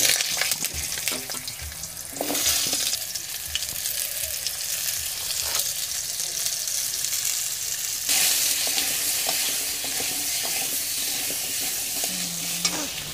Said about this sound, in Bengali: ভালো করে ধুয়ে পরিষ্কার করে রাখা আলু এখন আমি কড়াইয়ের মধ্যে দিয়ে দেব